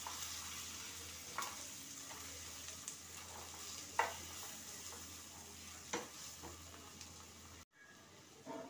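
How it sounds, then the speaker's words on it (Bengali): Spices with half a spoon of coriander powder stirred in a frying pan while cooking a pointed gourd curry with egg, a steady soft sizzle with occasional scraping taps of the spoon, close and continuous. "এবার এটাকে আমি খুব ভালোভাবে নেড়ে নেবো।"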